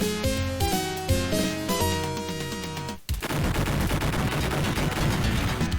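Dense burst of automatic gunfire in a James Bond 007 video game, loud and continuous after musical game audio cuts out, filling the second half with rapid overlapping shots.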